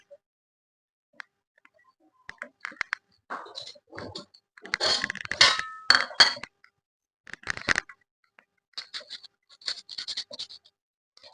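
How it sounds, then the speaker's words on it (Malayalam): A knife cuts raw mango for pickle in irregular clusters of sharp taps and scraping clicks, some quick bursts and some isolated strikes, close and fairly quiet with silent gaps between. "ഇനി ഇത് നമുക്ക് അരിഞ്ഞ് വെക്കാം"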